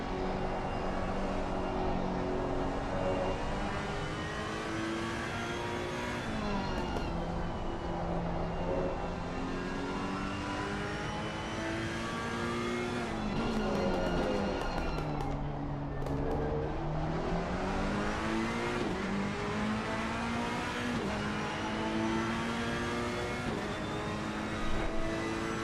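A Ferrari race car in Assetto Corsa Competizione laps Laguna Seca, its simulated engine droning loud and continuous, pitch climbing through the gears, dropping under braking and rising again, with no talk over it.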